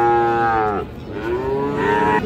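Two loud, drawn-out moos from a Friesian cow at a farm near Savar, Dhaka, sound close by, separated by a short pause, with no voices.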